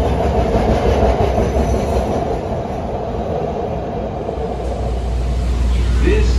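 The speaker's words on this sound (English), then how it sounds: "Time to get on a southbound train and check out Argyle." A southbound CTA train rolls into a Chicago elevated station, a steady loud rumble of wheels and rail clatter running throughout, with faint voices underneath.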